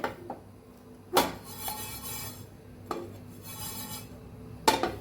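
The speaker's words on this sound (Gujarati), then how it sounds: "મીડિયમ ગેસ ઉપર આપણે આ ત્રણેય વસ્તુને શેકીએ છીએ" Cumin and fennel seeds dry roasting in a pan over a medium gas flame, with a few sharp metallic scrapes and clinks from stirring separated by quiet stretches.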